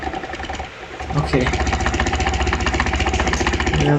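A truck engine idles in the off-road driving video game Mudrunner, a steady, loud chugging drone that swells and holds its rhythmic pulse, with a voice briefly over it.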